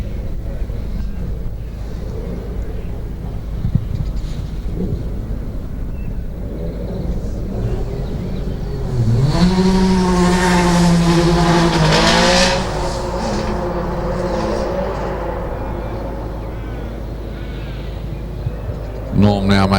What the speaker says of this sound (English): any second now we are going to see Norm take off from the line in the Porsche